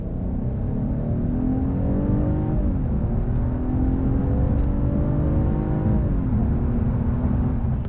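A 2021 Mercedes E300 Coupe with EQ Boost accelerates hard from 30 to 70 mph, its engine note climbing steadily in pitch with two brief dips at gear changes, loud and continuous inside the cabin.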